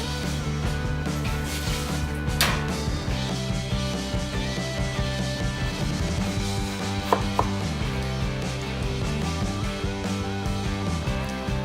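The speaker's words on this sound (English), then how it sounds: "remove the both ends of onion and peel out its skin. Cut this into a half." Knife cutting an onion in half on a board, giving a few sharp clicks amid faint kitchen clatter and a low steady background, quiet and close.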